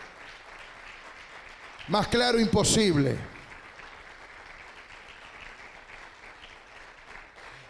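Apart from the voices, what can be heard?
congregation applauding loudly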